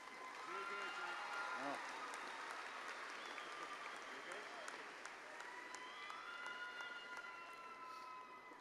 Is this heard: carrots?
no